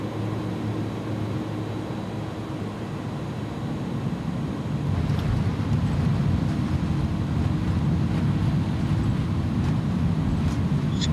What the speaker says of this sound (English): See how well this auto brake does.